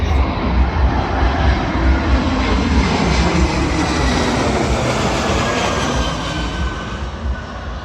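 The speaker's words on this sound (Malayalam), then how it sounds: "ഇവിടെ ഫ്ലൈറ്റ് കാണാം" A fixed-wing airplane roars steadily overhead at an outdoor fair in Dublin, loud and broadband, holding for several seconds before easing slightly at the end with no talk.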